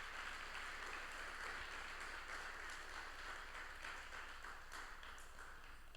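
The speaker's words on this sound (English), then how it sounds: "So please give him a warm round of applause." An audience at a UX meetup talk in Antwerp applauds with a steady, dense wash of clapping, faint and distant throughout.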